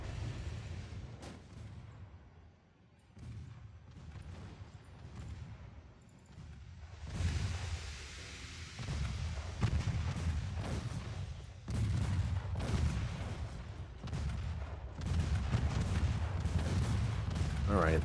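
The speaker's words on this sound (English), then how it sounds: "My gunfire is largely ineffective except for the 1 in 100 shots that manages to land on something" Naval gunfire in the warship game Ultimate Admiral Dreadnoughts: repeated heavy cannon booms and rumbling salvos fire continuously, loud and layered throughout.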